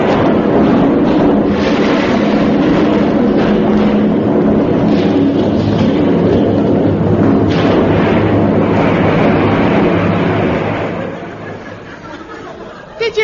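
A loud, sustained rumbling explosion sound effect from The Goon Show radio comedy roars continuously with crackling texture, fading out near the end; muffled voices seem mixed beneath it.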